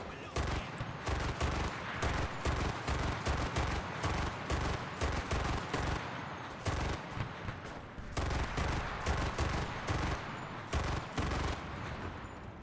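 An FG42 rifle in the video game Enlisted fires repeated loud bursts of automatic fire, each lasting about a second, in quick succession with short gaps between them.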